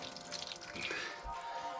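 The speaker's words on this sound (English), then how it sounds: "you're going to want to squeeze the water out of it" Water squeezed by hand out of sauerkraut dribbles and splashes into a big pan, a close, continuous wet trickle.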